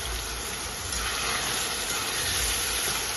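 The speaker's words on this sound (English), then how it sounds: "I'm frying up our two seasonings and our codfish." Codfish and seasonings frying in a pan for Jamaican ackee and saltfish, giving a steady, close hiss and sizzle with no break across the short stretch.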